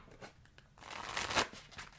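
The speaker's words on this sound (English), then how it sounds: "once I finish doing my riffle shuffles, I will cut the deck, reassemble it, and go ahead and pull the cards" A deck of playing cards is riffle shuffled at close range during a tarot-style reading, giving soft scattered flicks and then a brighter fluttering burst of cards interleaving, with no talk.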